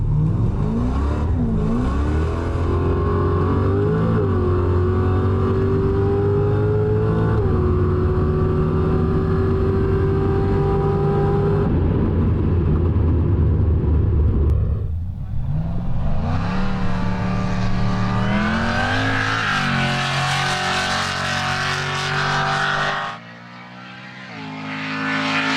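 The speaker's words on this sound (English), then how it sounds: "Harrop 2650 supercharger, Hurricane exhaust headers, and an interchiller gives this LSA 1050 horsepower" Supercharged 1050-horsepower LSA V8 in a VF Maloo Ute drag car with Hurricane headers and a Turbo 400 transmission, roaring loud as it accelerates hard, the engine pitch climbing through gear changes before a brief dip and a second screaming rise at a drag event on an airport strip.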